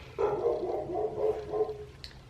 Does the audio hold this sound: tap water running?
no